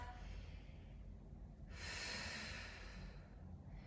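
A long, soft exhale during a postpartum breathing exercise, a faint airy rush of breath lasting a couple of seconds against a quiet room.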